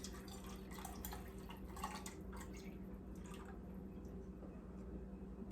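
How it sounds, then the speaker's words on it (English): Faint, steady trickle of hot lye mixture being poured into olive oil for soap making, with soft dripping and splashing over a constant low hum. "I'm going to gently pour the lye mixture into the olive oil."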